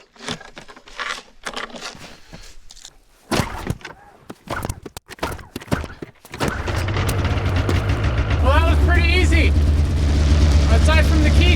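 A used 2014 two-stroke snowmobile engine in the cold Alaskan backcountry cranks with a few sputtering attempts, then catches around the midpoint and settles into a loud, steady running drone, with brief talk early on.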